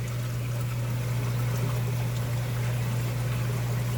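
Steady trickle of water into a tank holding about fifty baby gold lightning maroon clownfish being drip-acclimated, a continuous close wash with a strong low hum from pump equipment, no voices.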